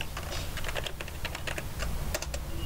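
Keys clicking on a computer keyboard while a command is entered in a Windows command prompt, a brisk steady patter of keystrokes heard close against a constant background hum.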